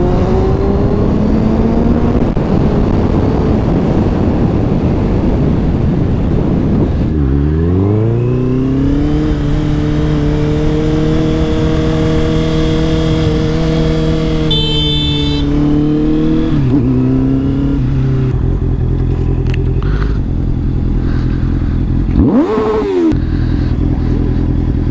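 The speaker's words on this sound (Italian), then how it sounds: "Facciamogli sentire subito a Pietro come cazzo si prospetta la giornata con un bel cazzo di un 4 cilindri" A four-cylinder car engine revs hard and close: a loud, raw roar whose pitch climbs, holds and drops through several throttle sweeps, continuous for the whole stretch with no talk.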